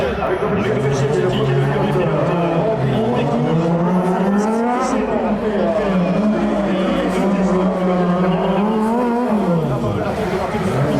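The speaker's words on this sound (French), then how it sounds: "c'est parti pour cette finale de cette Racing ACN Champions Edition avec Dominic Sensetti" Race car at the champions' final of a motor show race event in Luxembourg, engine revving and rising and falling loudly with gear changes and tire noise, under a commentator talking continuously.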